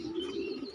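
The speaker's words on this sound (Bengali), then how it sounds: "অস্থির একটা কবুতর।" A restless fancy-feathered foreign pigeon coos in a brief, steady low call, close and fairly soft, with faint chirps above it.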